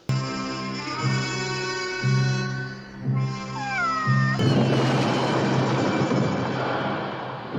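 A cat meows with a rising, wavering cry over a sustained humming drone, then a broad rushing noise takes over.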